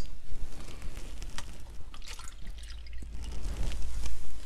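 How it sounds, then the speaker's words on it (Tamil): Water poured from a cup into the inner pot of an Instant Pot electric pressure cooker, an uneven splashing trickle with drips running steadily for several seconds, close and moderately loud. "இந்த கப்பு வழியாக இந்த அளவில் மூணு கப்பு தண்ணி ஊற்றலாம்."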